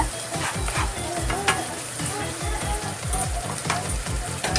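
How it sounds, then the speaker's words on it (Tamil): Vegetables for a vegetable biryani sizzle in a hot pan while being stirred, with a steady rhythmic scraping of a utensil against the pan throughout, close up. "கொஞ்சம் நல்லா வதங்கிட்டோம்"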